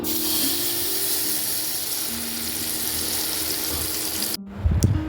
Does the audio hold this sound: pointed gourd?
yes